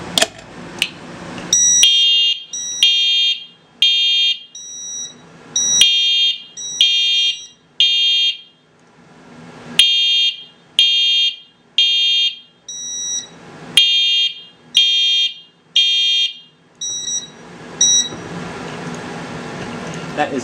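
A building fire alarm system set off from a pull station, with a loud electronic horn pattern repeating in steady bursts for about twenty seconds, close and filling the space.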